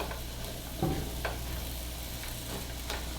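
Steady, soft sizzling of onions frying in oil, with a couple of faint stirring scrapes and no voices.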